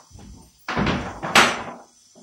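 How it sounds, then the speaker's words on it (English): A door closes in a single loud, close thud with a short rattle, followed by quiet. "Close the door."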